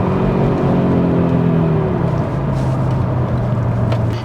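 Audi RS3 hot hatch engine revving on a downshift, a loud rising-then-falling rev that drops into a lower steady drone, close and alone without talk.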